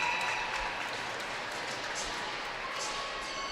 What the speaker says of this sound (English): And Whitus receives a big round of applause there